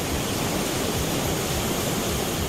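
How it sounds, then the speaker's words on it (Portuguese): Cachoeira Esmeralda on the Rio dos Pardos pours as a steady, dense roar of falling water, loud and unbroken, with no voices. "Destaque para a Cachoeira Esmeralda,"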